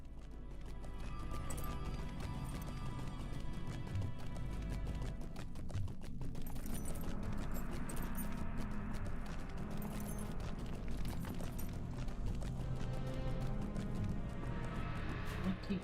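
Hooves of a goat mount clop steadily in a video game, a continuous loud rhythmic patter over game music and ambience, with someone talking intermittently throughout.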